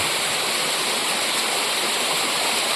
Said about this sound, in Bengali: পাহাড়ের গা বেয়ে কি সুন্দর ঝর্ণা